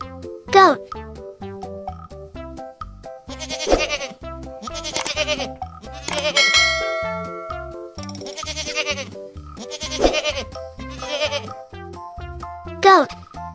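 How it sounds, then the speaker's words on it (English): A goat bleats repeatedly over cheerful background music, with several loud wavering cries spread across the clip and short sound effects at the start and end. "This is a goat."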